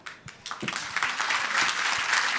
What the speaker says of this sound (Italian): Applauso meritato, direi.